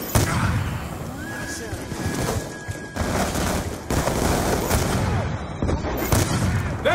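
Heavy sustained gunfire in Call of Duty Black Ops 2, dense rapid shots and blasts crackling continuously through the whole stretch, loud and close with voices mixed in.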